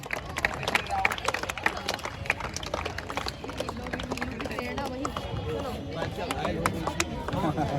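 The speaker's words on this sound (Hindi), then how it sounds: "खिलाड़ी तालियां बजाते रहें" Basketball players clapping at a match awards ceremony, a steady run of sharp individual claps close by with crowd chatter and talking underneath.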